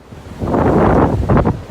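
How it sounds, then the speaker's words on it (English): Strong wind on Owl's Head in deep snow roars and buffets the microphone in loud, surging gusts, with a brief lull before another blast near the end. "Pretty windy today."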